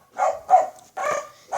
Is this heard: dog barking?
yes